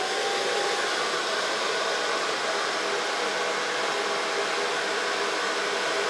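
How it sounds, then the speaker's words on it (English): A hair dryer blows steadily while short pixie-cut hair is dried with a brush, a constant loud close whooshing hiss with no breaks for the whole stretch. "Going to blow dry it with a nail brush."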